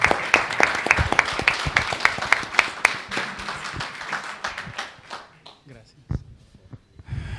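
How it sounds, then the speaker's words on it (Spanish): An audience at a public law conference gives applause, a dense burst of many hands clapping close by that thins out and trails off toward the end with a few scattered claps. "Pido un fuerte aplauso para él."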